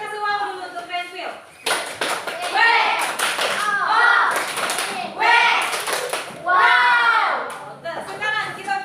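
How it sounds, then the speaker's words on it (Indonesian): A classroom of students clapping hands after a presentation, bursts of applause mixed with children's voices and chatter, loud and close, rising and falling in waves. "ya kasih tepuk tangan dulu"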